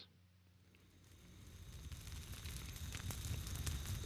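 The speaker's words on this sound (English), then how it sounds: "So we have some nice evening campfire sounds just to connect us to nature and to the earth." An evening campfire crackles softly with scattered pops and snaps, quiet at first and gradually growing louder.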